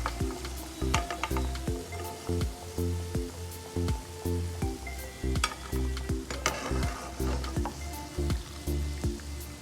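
Onion pakoda fries in hot oil, crackling with a steady sizzle while a utensil scrapes and stirs in a regular rhythm of knocks and clinks, close and clear with no talk.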